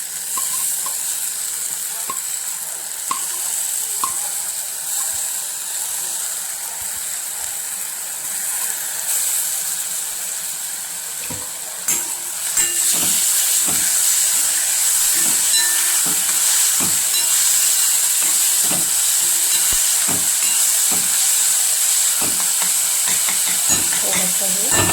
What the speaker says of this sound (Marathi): थोडंसं हे भाजून घेऊया